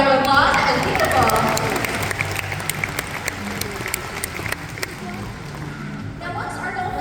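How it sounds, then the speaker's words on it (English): Audience clapping and cheering for a dolphin named Lily at a Georgia Aquarium show, a loud burst of applause that gradually thins out over several seconds, with a voice and faint water sounds beneath. "You guys can give Lily a round of applause."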